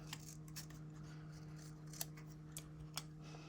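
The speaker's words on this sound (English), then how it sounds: "I am gonna cut some of the white off." Scissors snipping the white edge off a paper planner sticker, a few faint quick crisp clicks against a quiet humming room.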